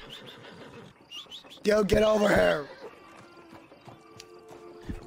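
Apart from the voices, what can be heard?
horse neighing in video game Red Dead Redemption 2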